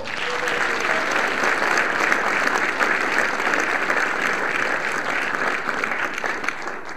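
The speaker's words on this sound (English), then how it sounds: "Let's give him a round of applause." Sustained audience applause at a political Q&A forum, loud and even from start to finish, a dense wash of clapping hands, with a brief voice at the very start.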